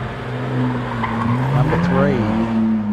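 A Holden XU1 Torana races up a hillclimb course, its engine note climbing and shifting through the gears as it passes fairly close, with a tyre squeal and a voice talking alongside.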